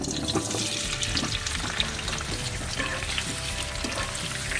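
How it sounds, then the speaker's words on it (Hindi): Potatoes frying in refined oil in a pan over high heat, a dense, steady sizzle throughout with occasional stirring clinks and no voices. "अब हम आलू फ्राई करेंगे।"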